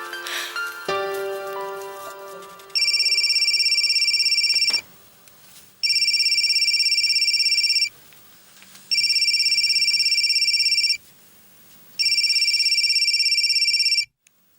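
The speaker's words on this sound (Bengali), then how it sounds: "মানিকে একটা ফোন করি, বল।" A telephone rings four times in regular electronic bursts with pauses between, loud and close, after a few softer clicks and knocks at the start.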